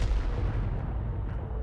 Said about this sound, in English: there's the AT2 with his fast-firing 2-pounder gun